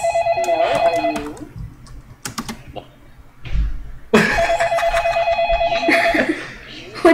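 A landline telephone rings twice in the interactive drama game Façade, electronic trills with a pause between, while people talk over and around the rings.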